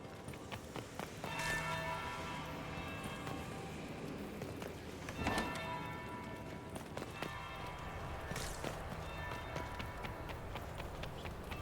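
A bell rings in the background of a Dragon Age: Inquisition palace scene. Clear pealing strikes stand out around five and eight seconds over a busy bed of running footsteps and hoof clatter.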